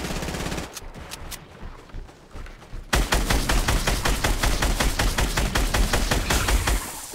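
Rapid automatic gunfire from a Fortnite match, sparse and intermittent at first, then a dense, loud, continuous burst of shots for several seconds before cutting off.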